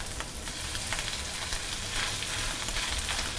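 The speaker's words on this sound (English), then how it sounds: "And it better be sizzling as it hits the pan." Steady, crackling sizzle of salmon frying skin side down in a hot pan, close and continuous, with no talking.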